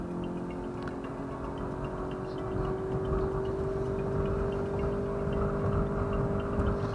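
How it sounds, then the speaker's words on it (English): A 2013 Ford Fusion Hybrid engine held at full throttle through its CVT, a steady droning tone that stays at one pitch while the level creeps up slightly, with no talking. "What you heard there was that characteristic CVT behavior, where at full throttle, it takes the engine right to the power peak and stays there."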